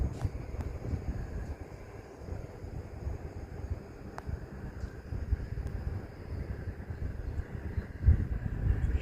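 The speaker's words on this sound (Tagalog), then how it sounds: "Nasa tuktok kasi ito ng hill, kaya mahangin dito." Wind blows steadily across a hilltop above a lake and road in Croatia in springtime, a continuous low rumbling buffet with gusts swelling and easing throughout and no voices.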